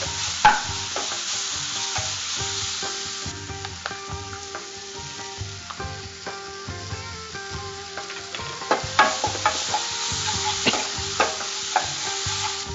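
Tomato and green chili being sautéed for mutton keema, a persistent sizzle broken by repeated scraping and stirring knocks of a spatula against the pan, close and moderately loud.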